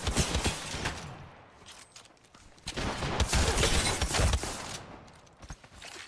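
Gunfire in the battle royale game Apex Legends, with bursts of rapid shots crackling in loud clusters, swelling heavily in the middle and tapering off toward the end.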